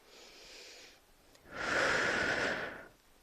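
Deep, slow breathing during a full-body yoga practice: a softer inhale followed after a brief pause by a long, loud, airy exhale, close to the microphone, with no talk.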